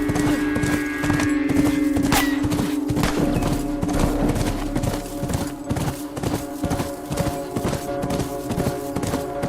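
Rhythmic clip-clop of horse hooves at a steady pace in the video game The Last of Us, close and clear, with a brief whinny-like tone early on.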